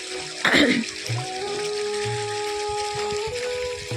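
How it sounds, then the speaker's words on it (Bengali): A motor pump delivers irrigation water into a green farm field, giving a steady flow of water over a constant low mechanical hum, with a brief louder gush near the start. "জল আসছে মোটর দিয়ে"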